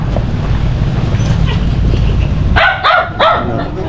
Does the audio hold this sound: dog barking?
yes